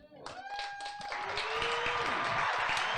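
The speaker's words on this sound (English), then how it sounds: "Y'all can clap better than that." Audience at a comedy night at The Youngstown Studio claps and cheers steadily as the crowd noise swells and stays loud, with a host's voice and whistle-like tones sounding above it early on.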